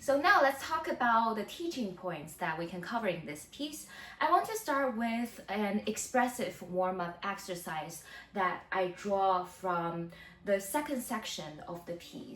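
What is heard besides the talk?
No everyday noise stands out behind the speech.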